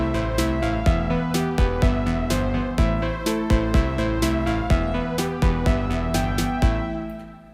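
A song recreated on a Roland JD-Xi synthesizer: a steady electronic arrangement with a bright repeating synth pattern, pulsing bass and sharp regular percussion hits, played alone at an even tempo with no talking.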